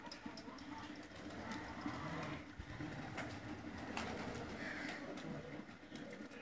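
Lal Pari, or Teddy, breed pigeons coo softly in a low, steady murmur, with faint background noise and no clear talk.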